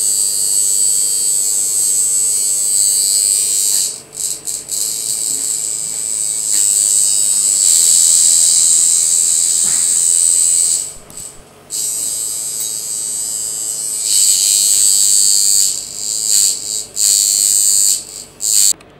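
A professional ARTFLY TURBIN tattoo machine runs with a steady high-pitched electric buzz, loud and close, briefly cutting out and restarting several times as its force setting is adjusted, with no talking.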